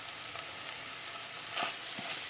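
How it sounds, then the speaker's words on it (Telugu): Ginger garlic paste frying with onions in a pan for an Andhra-style sorrel leaves prawn curry gives a soft, steady sizzle, close and quiet, with a few light stirring scrapes and no voices. "మనకి ఆనియన్ మంచిగా ఫ్రై అయిన తర్వాత అల్లం వెల్లుల్లిపాయ పేస్ట్ అయితే తీసుకుంటున్నాను"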